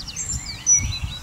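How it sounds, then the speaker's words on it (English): Birds singing outdoors during a quiet spell, several high chirps and trills overlapping across the moment, clear and fairly close over a low background murmur. "Birds. Can you hear that?"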